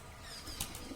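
A pigeon flaps its wings as it lands, a brief, soft whir of wingbeats close by.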